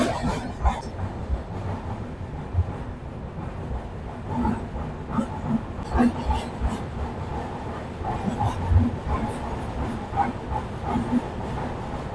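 A Janshatabdi Express on the Mumbai CSMT to Hingoli run pulls away from a brief station halt and picks up speed, giving a steady, close, continuous rumble with scattered clanks and knocks.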